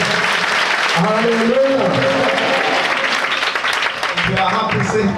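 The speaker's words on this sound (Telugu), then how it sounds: "ఉంటే చప్పట్లు గట్టిగా" A church congregation at a Holy Communion service in Balusupadu, India claps in a dense burst, with a voice speaking and calling out over the applause throughout.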